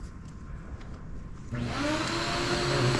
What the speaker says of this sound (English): And we will get our vacuum going